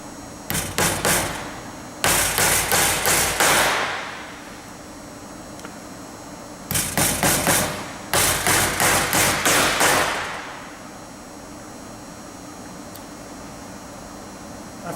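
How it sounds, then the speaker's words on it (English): Double-headed nails are hammered through a template into a conveyor belt in two rounds of sharp, ringing blows: short quick bursts of strikes, a pause of a few seconds, then another set, close and loud. "to secure the template to the belt, we'll take a couple of the double-headed nails that were in the kit"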